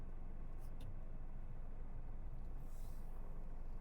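A car reverses while turning through a 90-degree parking manoeuvre. A steady, close, low engine and road rumble runs the whole time, with no talking.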